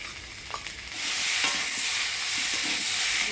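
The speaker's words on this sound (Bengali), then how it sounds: "মশলা দিয়ে আলুটা কষাই নিলাম" Potatoes stirred in a hot pan with ground ginger, cumin, coriander and chili paste, a quieter sizzle that swells into a loud, continuous frying hiss with scraping stir strokes, with no voices.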